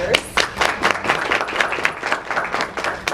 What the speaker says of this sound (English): let's hand clap for our vendors